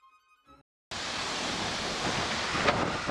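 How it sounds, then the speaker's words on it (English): Strong wind rising at sea off the south coast of England during a winter solo sail, a steady loud broadband roar that starts suddenly after a brief quiet moment and holds continuously to the end. "The wind has just picked up from 3 knots to 16 knots in about 3 or 4 minutes."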